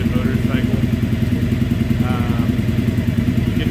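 A 2015 Triumph Speedmaster EFI motorcycle engine running close by with the AIR system removed, a loud rhythmic throbbing idle with occasional small pops, while someone talks over it.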